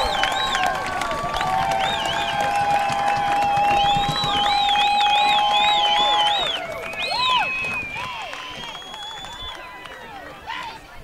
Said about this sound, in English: as you can hear the fans behind us getting rowdy, getting ready for this fourth quarter of play